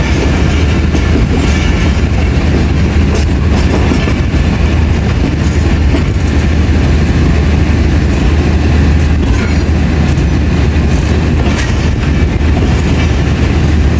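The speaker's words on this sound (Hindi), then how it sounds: "चलें जी, मूव हो रही है दीना से हमारी ट्रेन 13 पवाम एक्सप्रेस" The Awam Express passenger train departs Dina station in Pakistan, its loud continuous rumble heard from on board with rhythmic wheel clatter and faint squeals throughout, running late.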